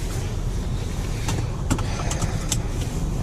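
Steady interior drone of a 2005 Toyota Highlander V6 with a four-speed automatic, driving along under constant road and engine noise, with a few faint clicks and knocks over the even hum and no talking.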